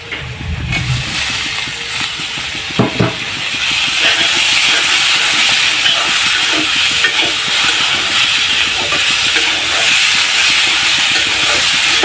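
Boiled potatoes dropped into a pan of fried onions and spices for samosa filling sizzle loudly. A brief clatter comes early on, and then a steady, close frying hiss builds and holds.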